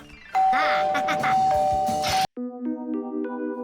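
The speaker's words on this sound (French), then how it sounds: "Les vrais invités font toujours retentir la sonnette." A cartoon doorbell rings with a bright sustained electronic tone under lively background music and voices, then gives way to a clear two-note ding-dong chime that lingers and fades.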